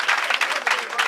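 An audience at a gathering gives the ADI group a brief burst of dense applause, with crowd voices mixed in.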